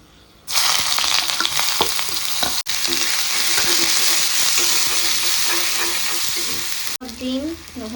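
Onions with bay leaf and whole garam masala hit hot oil on a strong gas flame for a soyabean fry, bursting into a loud, steady sizzle with stirring scrapes throughout and a brief voice at the end.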